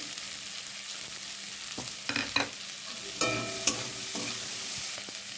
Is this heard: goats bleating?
no